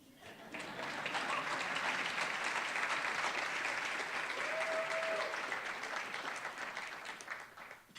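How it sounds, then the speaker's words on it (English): An audience breaks into applause that builds quickly, holds as a dense, steady wash of clapping for several seconds, then gradually thins out, heard from a moderate distance. "You can clap for that."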